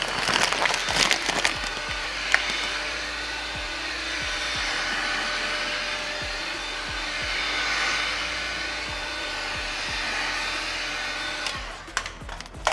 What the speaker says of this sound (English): this heat gun is going to be your best friend for these cold days when you have to remove this wrap